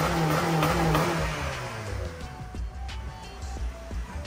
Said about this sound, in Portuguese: digamos que ele tá acelerando com o carro motor frio